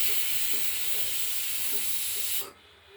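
Pressure cooker whistle blasting steam while moong dal with ash gourd cooks, a loud continuous hiss that holds steady then cuts off abruptly near the end, leaving faint background.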